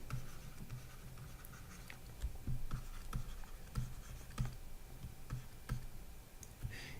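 A pen writes out a math equation on paper: quiet, close scratching strokes with small irregular taps and clicks as letters and symbols are formed, with no voice.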